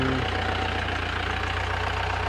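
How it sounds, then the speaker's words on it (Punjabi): A jeep engine idles steadily, a low even rumble with faint knocking, unchanging throughout and with no voices. "ਇੰਜਨ ਆਵਾਜ਼ ਵੀ ਬਹੁਤ ਵਧੀਆ"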